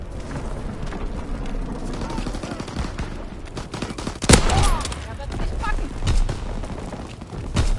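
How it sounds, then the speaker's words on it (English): Rapid machine-gun bursts from a fighter plane strafing in a WW2 video game crackle through dense battle noise, with one sharp loud hit midway and voices talking over the action. "Fighter pilot inbound, strafing the target."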